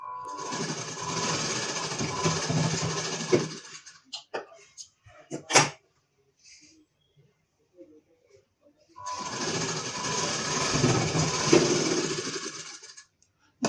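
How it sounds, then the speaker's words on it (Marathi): An electric sewing machine double-stitching a tucked blouse runs in two steady, close bursts of rapid whirring, separated by a quiet pause filled with a few clicks and handling knocks. "इथे डबल टिक शिलाई करायचं आहे."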